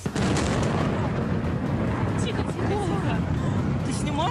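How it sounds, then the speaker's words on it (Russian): Dense, rumbling explosions and crackling blasts fill the clip continuously in Crimea, with faint voices underneath and a distant whistling tone near the end. "Взрывы."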